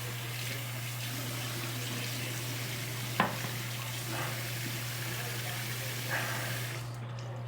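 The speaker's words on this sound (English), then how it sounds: "run it under some warm water" A razor rinsed under running warm tap water gives a steady, even rush of flowing water with a low hum beneath it, broken by a brief clink near the middle.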